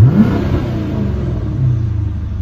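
A Dodge Charger RT with a muffler delete revs nearby, giving a deep, loud engine rumble that rises briefly and holds steady for a couple of seconds.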